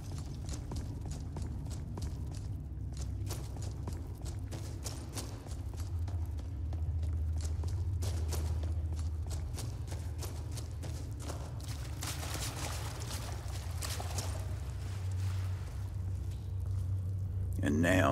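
Horse hooves clip-clop steadily in Skyrim, a continuous trotting rhythm kept up for the whole stretch beneath a speaking voice and low game ambience.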